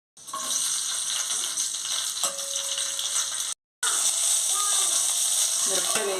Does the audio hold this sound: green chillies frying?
yes